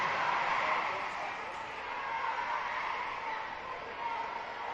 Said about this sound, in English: you start to hear the chanting